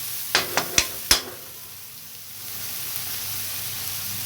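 Onions and chopped green chilli frying in a pan for aloo patties, with four sharp stirring clicks early on, then a steady soft sizzle hissing on its own.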